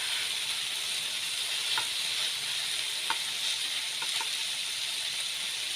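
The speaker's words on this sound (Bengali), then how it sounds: "চিকেনটা একদম হাই হিটে ভাজবেন।" Chicken pieces for a burger fry on high heat, a constant close hiss and sizzle with a few faint pops, with no voices.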